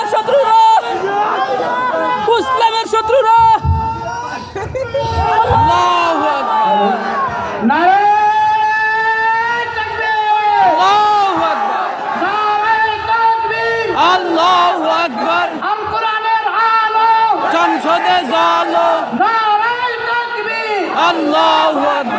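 A large crowd chanting the takbir slogan, Allahu Akbar, in loud repeated unison responses to a leader's calls, with sustained chanted voices and swelling rhythmic shouts throughout.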